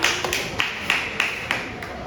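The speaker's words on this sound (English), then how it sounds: "Give her a applause." Students in a classroom give a few rhythmic claps, regular soft beats roughly three per second over a murmur of room noise and background voices.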